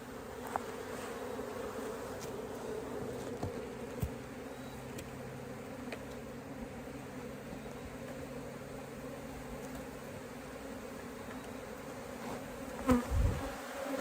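Bees from an opened forest beehive drone in a steady, dense buzz close by, with a few louder passes and a brief knock near the end.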